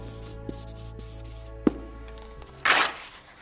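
A fashion sketch is drawn by hand, with faint pencil strokes and light taps on paper under a steady low hum, ending in a louder rustling scrape, heard close and without talk.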